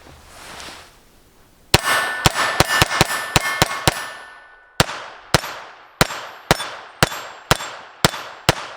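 A KelTec P17 pistol fires 36 grain hollow point rounds, sharp metallic cracks coming first in a quick rapid string, then after a pause in a slower steady series of single shots, each close and ringing briefly.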